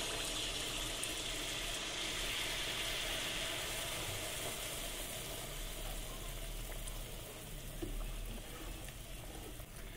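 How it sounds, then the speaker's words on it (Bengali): Adosha pitha, a Bengali fried sweet cake, cooking in hot oil, giving a steady, even sizzle and bubbling hiss that holds throughout at a moderate level with no voices. "আদোসা ভেজে নিচ্ছি"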